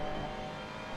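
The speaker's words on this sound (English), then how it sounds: "You could hear the car not wanting to grip, and it just caused him to slide" A race car at Suzuka in a sim racing game, its engine droning steadily and loud as it slides and loses grip, with a faint hint of tire scrub under the roar.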